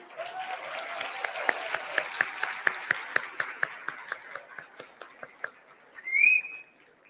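Audience at a lecture applauding a speaker, rhythmic unison clapping growing and then thinning out, ending with a sharp whistle.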